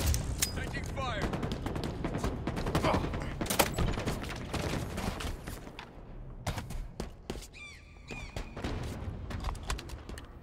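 Rapid Halo Infinite gunfire in a big-team battle, a busy, loud stream of overlapping shots and bursts that thins briefly before picking up again, with game voice callouts mixed in.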